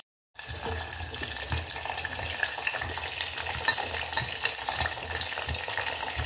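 Avakaya vegetable pieces fry in oil over a medium flame while a dry spoon stirs them, giving a steady close sizzle with soft scraping throughout.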